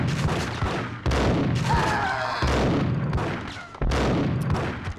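Bomb explosion in the Max Payne game: heavy booming blasts, loud and close, with a sharp onset followed by rumbling decay and a second strong hit later.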